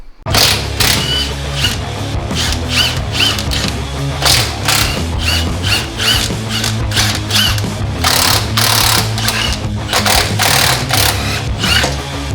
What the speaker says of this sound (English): we're going to take those screws out and start removal of the actual upper control arm